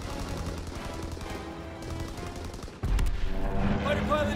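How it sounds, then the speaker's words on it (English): A fighter plane's strafing run in a WW2 multiplayer video game: rapid, continuous machine-gun fire rattling throughout, swelling into a louder, denser burst partway through, with game voices mixed in. "Fighter pilot inbound. Strafing the target."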